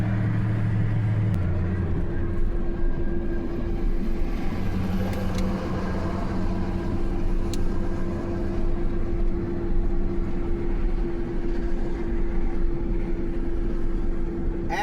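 A Nissan Titan truck drives steadily with a constant engine hum and road rumble, heard from inside the cab with no talking.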